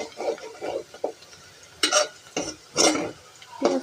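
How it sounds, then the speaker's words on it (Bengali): Onions nearly done sautéing in a pan, stirred in bursts of scraping and rustling strokes with a spatula, close by, each stroke separated by short quiet gaps. "পেঁয়াজটা প্রায় কষানো হয়ে গিয়েছে"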